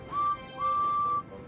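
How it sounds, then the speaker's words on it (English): A steam engine whistle from a children's train show sounds twice, a short clear toot and then a longer sustained tone, steady in pitch and fairly close, standing alone against a quiet background. "And a whistle, which sounds like this."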